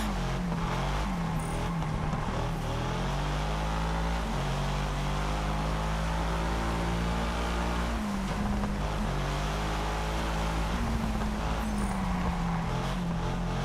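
Car engines race in Test Drive Unlimited Solar Crown, a loud, continuous, close engine whine climbing and dropping through gear changes, with a sharp dip around the middle before pulling hard again.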